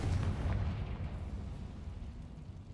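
Confringo fire spell going off in Hogwarts Legacy, a deep rumbling blast that booms loud at first and then rolls and fades slowly over a few seconds.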